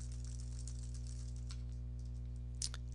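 Light, quick typing on a computer keyboard during data entry in Word, soft irregular key taps with one louder keystroke near the end, over a steady low electrical hum.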